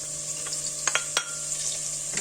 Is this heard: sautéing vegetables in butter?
yes